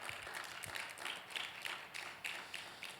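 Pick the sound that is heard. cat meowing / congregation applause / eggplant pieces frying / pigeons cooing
congregation applause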